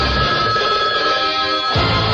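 Telephone line ringing in a radio studio, a bright electronic trill that repeats in short bursts with brief gaps, close and clear with no talk over it.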